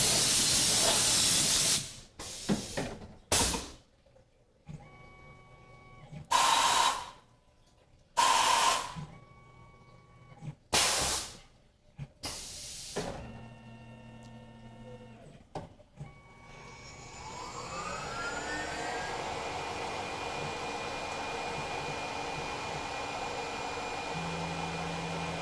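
A Tormach PCNC 1100 CNC mill runs a finish pass with a quarter-inch three-flute Lakeshore carbide end mill at 5,140 RPM under flood coolant: sharp spray bursts and pauses give way to a steady hiss with a rising spindle whine.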